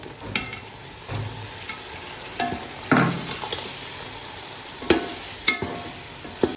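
Tomatoes added to a pan of fried chillies for a chicken pumpkin curry, sizzling steadily up close with several sharp clanks and scrapes of a utensil against the pan.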